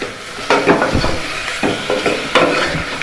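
Pieces of cut mutton sizzle in a hot pan for mutton chops while a spoon stirs them, scraping clanks recurring every second or so over a continuous frying hiss.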